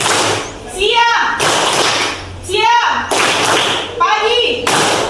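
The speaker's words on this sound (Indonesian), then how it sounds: "coba tepuk pagi," Schoolchildren in an Indonesian classroom clap a short counted rhythm for a morning-afternoon-night clapping game, sharp unison claps alternating with the children's chanted calls, loud and close.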